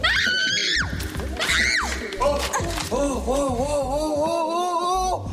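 Children's voices scream and shriek in high, overlapping bursts, loud and close, with rising and falling wails over a busy background.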